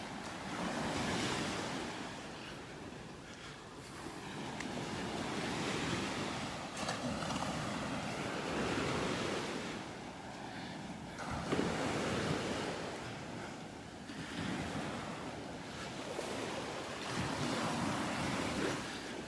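Ocean waves roll in and break on the beach at North Naples, Florida, in a loud, continuous wash with surges every few seconds, blended with wind buffeting the microphone and no talk.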